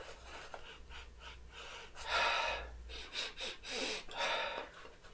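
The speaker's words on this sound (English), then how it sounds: "I'm going to have a savage sniff inside" Several sharp nasal sniffs close to the microphone inside an old book, a few quick intakes of breath in an uneven rhythm, with no talking.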